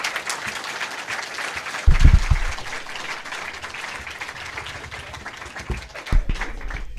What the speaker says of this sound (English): let's give Ann a big round of applause